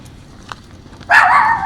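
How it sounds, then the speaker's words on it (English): Dogs bark excitedly in a sudden loud burst near the end, close by, after a quieter stretch, with no talk over it. "the dogs are going crazy"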